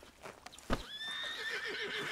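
A horse whinnies in Red Dead Redemption 2, a faint high, wavering neigh after a few soft hoof or tack clicks, heard without talk.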